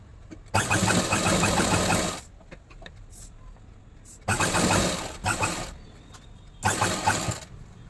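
A sewing machine stitches the side seam of a kurti in three bursts of rapid, close needle clatter lasting one to two seconds each, with quiet handling noises between runs.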